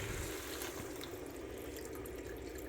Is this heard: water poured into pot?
yes